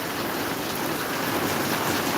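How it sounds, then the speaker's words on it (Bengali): Heavy rain pours steadily in Maharajpur, a loud, dense, unbroken wash of drops striking surfaces close by, with no voices. "বৃষ্টিটা হচ্ছে অবশ্যই আমাদের ভালোর জন্য হচ্ছে"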